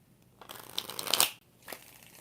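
Tarot cards shuffled in two quick riffling bursts, close and fairly quiet, the first longer and building before a brief pause and a shorter second shuffle.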